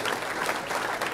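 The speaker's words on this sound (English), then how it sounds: "Big round of applause for our main presenter today, Action Drone." Audience applause for the main presenter at a holiday business breakfast, a continuous dense wash of clapping from a room of people.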